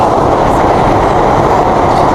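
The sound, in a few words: London Underground train running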